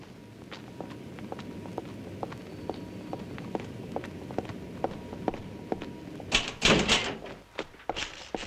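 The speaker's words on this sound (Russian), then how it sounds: "Дель Туддо, дверь. Иду, иду." A door in a 1981 Italian film thuds open or shut with a loud cluster of knocks and rattles near the end, after a steady series of evenly spaced footsteps walking over a quiet room background.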